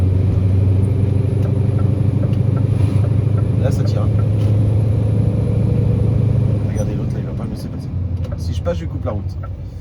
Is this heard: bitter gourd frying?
no